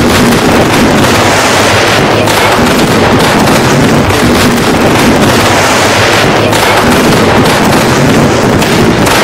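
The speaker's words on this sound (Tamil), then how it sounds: "எட்டு திக்கும் கொட்டி முழங்கும் பட்டாசுக்கள்" Diwali firecrackers bursting nonstop, a loud dense barrage of overlapping bangs and crackles with no pauses, filling the whole stretch.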